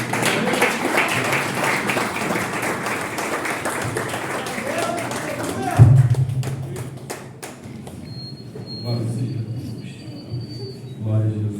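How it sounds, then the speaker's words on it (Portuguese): Church congregation applauding, a dense wash of clapping under a voice that halts with a thump, then fading into scattered claps while the preacher keeps speaking over it. "aplaude o nome do Senhor"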